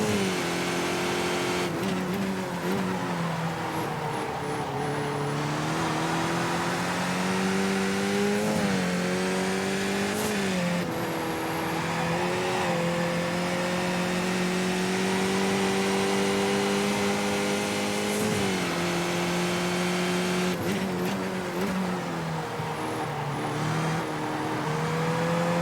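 A Skip Barber race car engine lapping Tsukuba in the iRacing simulator, a continuous loud engine whine rising through the gears with repeated dips and climbs as it shifts and brakes, heard alone without speech.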